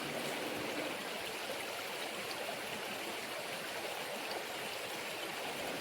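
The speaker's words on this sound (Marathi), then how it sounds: "सुंदर ओढ्याचा पाणी बघू शकता मित्रांनो." A forest stream near the Kondana caves runs steadily over rocks, a dense, even rush of flowing water that fills the whole stretch without a break and with no voices.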